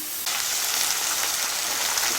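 Chicken mince with onion sizzles in a frying pan: a loud, steady, crackling hiss that starts a moment in and runs without pause, with no voices over it.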